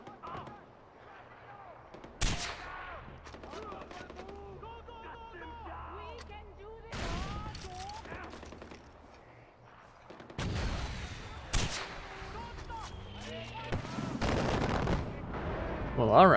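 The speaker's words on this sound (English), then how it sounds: "they're shooting at those dudes" Enemy gunfire crackles in a Far Cry 4 firefight, with sharp broadband shots at irregular intervals and bursts mixed into game ambience, sounding mid-distance, while people talk throughout.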